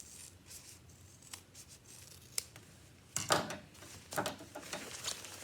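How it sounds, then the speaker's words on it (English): Scissors snip excess fabric off a sewn lunch bag: a few quiet, close cuts, with sharper clusters of snipping near the end. "And now I cut this extra fabric off."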